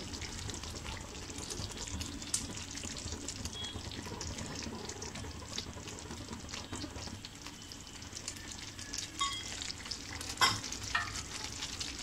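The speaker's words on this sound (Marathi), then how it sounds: "पनीरचे पीस टाकायचे आहेत." Paneer pieces stirred into a simmering paneer masala gravy, a steady soft bubbling and scraping that runs throughout, with a few sharper clinks near the end.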